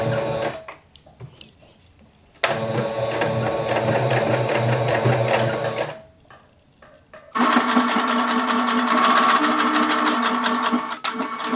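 A sewing machine runs in two long bursts as the top part of a piece of fabric is stitched, its steady buzzing whir loud and close, with quiet pauses and faint handling noises before and between the runs.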